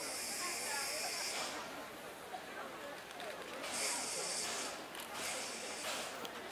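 Tobu SL Taiju steam locomotive hissing steadily as it eases toward a turntable at Kinugawa, a broad continuous rush of steam with brief louder bursts, heard at moderate distance without nearby talk.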